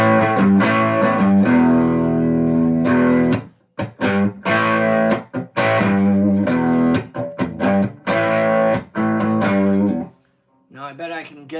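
Electric guitar played clean through a small-wattage tube amp with only its onboard reverb, strummed chords and picked notes ringing in bursts with brief pauses, then a short quieter phrase at the end.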